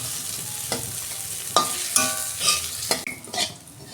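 Fried bitter gourd stirred in a pan and lifted out, sharp utensil scrapes and clinks over a low oil sizzle, a few distinct strokes with no talk.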